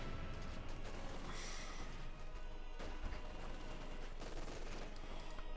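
Dense, continuous rifle and machine-gun fire in the Company of Heroes 2 strategy game, grenadiers and riflemen trading shots in loud overlapping bursts with no break.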